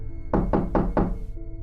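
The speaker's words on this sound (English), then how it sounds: "only to wake up to the knocking again" Knocking on a door as an animated sound effect: four quick, evenly spaced knocks, close and clear over a low steady hum.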